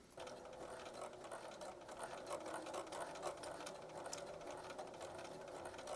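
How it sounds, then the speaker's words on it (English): Sewing machine edgestitching close along a seam, a fast continuous mechanical whir and rapid needle clatter running steadily and fairly near throughout. "place the edge of the toe, the inside edge of the toe, along the seam line, and then begin to stitch."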